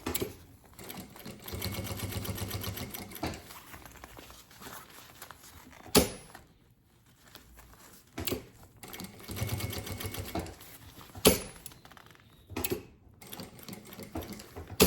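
Sewing machine stitching a mini suitcase, running in rapid bursts of steady needle rattle separated by short pauses and sharp clicks as the fabric layers are aligned, fairly quiet and close.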